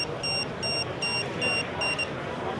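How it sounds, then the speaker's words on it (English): An optional buzzer alarm on an ice fishing tip-up beeps in five evenly spaced short high-pitched pulses over a busy expo hall hubbub. "Also has an optional buzzer here that we can turn on or off."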